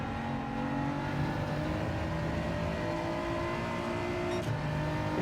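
A BMW race car engine in the racing video game Gran Turismo 7 drones steadily at high revs, a constant sustained whine and hum with little change, no talking.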